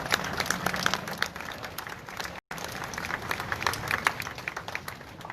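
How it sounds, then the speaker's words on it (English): Crowd applause at a rally outdoors, many distinct hand claps forming a lively, uneven patter with a brief dropout midway, moderately faint against background crowd noise. "Give yourself a round of applause, please."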